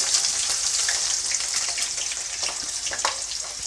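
Chopped onions and green chillies fry in oil in a pan over medium flame, making a steady, close hiss with scattered crackles and pops and no talking.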